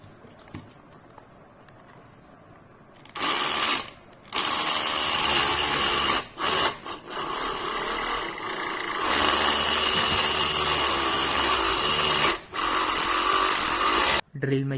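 A homemade battery-powered drill built around a 775 DC motor whirs in bursts, running steadily for several seconds at a time with short stops between, loud and close.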